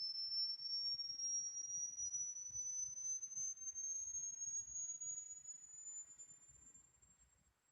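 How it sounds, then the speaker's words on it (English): Thin, very high-pitched pure test tone climbing slowly and steadily in pitch, faint and continuous over quiet background murmurs, from a classroom hearing demonstration. "I'm gonna tell you when I can't hear it anymore."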